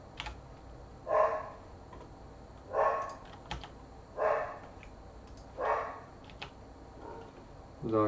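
A dog barks indoors in a home, five muffled, evenly spaced barks about a second and a half apart, faint and set against quiet room tone and light keyboard typing.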